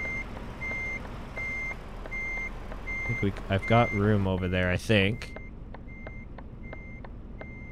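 Reversing beeps from a truck being backed up repeat steadily at an even rhythm throughout, with someone talking briefly in the middle over a low engine rumble.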